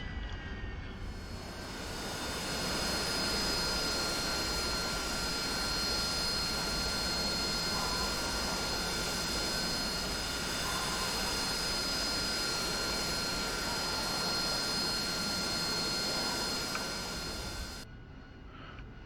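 Steady, loud roar of an AV-8B Harrier jet engine in DCS World, with nozzles set to about 40, topped by a thin high-pitched whine; it swells after a couple of seconds, holds, then cuts off abruptly near the end.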